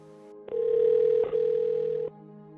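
Beneath a steady low hum, a telephone ringing tone sounds as one long electronic buzz with a brief break partway through.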